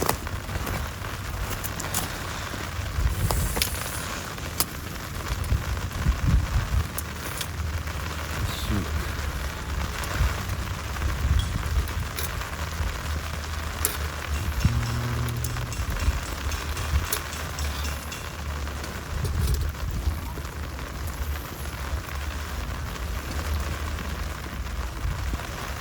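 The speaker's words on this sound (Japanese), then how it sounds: "雨が降ってきました。" Rain falls steadily on a solo campsite with a campfire, a continuous broad hiss with scattered sharp taps and drips on surfaces throughout.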